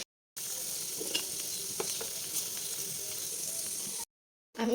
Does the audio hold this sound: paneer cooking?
yes